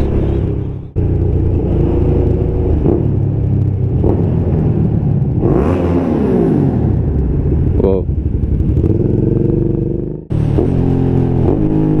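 Engines rumble and rev continuously as motorcycles pass close by, one rising and falling as it accelerates, with a sudden cutoff near the end.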